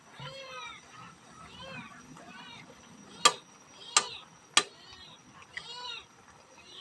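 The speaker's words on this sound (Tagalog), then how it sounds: "Ingay ng pusa." A cat meows repeatedly nearby, with several drawn-out cries spaced a second or so apart, interrupted by a few sharp clicks.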